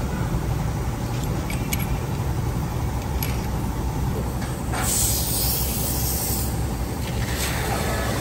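Cleaner sprays from an aerosol can into the evaporator of a Pajero air-conditioning unit, a loud continuous hiss that runs the whole time over steady mechanical background noise, with no clear talk.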